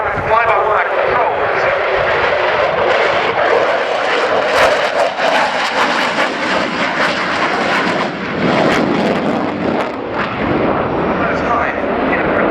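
A Sukhoi Su-27 fighter jet flies at an airshow at Fairford, its loud, steady engine roar filling the air throughout while an announcer talks over it.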